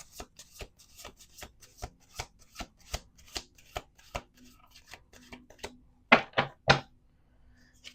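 Tarot cards are riffled and tapped in a quick run of crisp snaps, ending with three louder, sharper slaps as the deck is squared.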